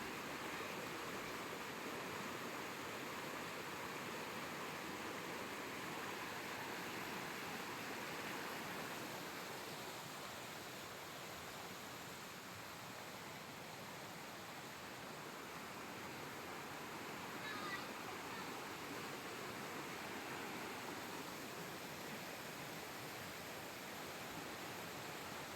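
Flowing river water at a resort, a steady broadband rush that stays even and continuous throughout, with no voices standing out.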